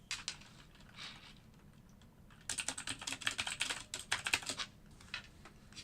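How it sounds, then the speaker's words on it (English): Computer keyboard typing, a quiet close patter of keystrokes that starts sparse and then becomes a dense burst of rapid clicks in the middle before trailing off. "I'm about to type out this."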